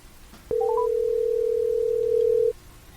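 A telephone gives a short rising series of dialing beeps, then a steady dial tone holds for about two seconds before cutting off abruptly, loud and close over quiet room noise.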